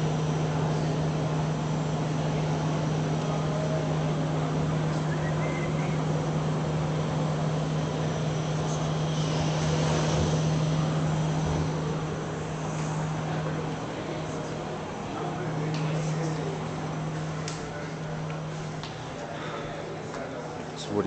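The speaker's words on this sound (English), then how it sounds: "There's a plane that Carly is horrified to fly in, but I think it's going to be fun" A small propeller airplane's engine drones steadily and close for the whole stretch, a constant low hum beneath broadband rushing noise that swells slightly midway.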